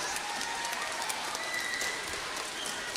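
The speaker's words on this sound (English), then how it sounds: "Why don't we give them a big round of applause?" An audience at a school winter concert applauds the accompanists with light, steady, somewhat distant clapping that runs evenly throughout.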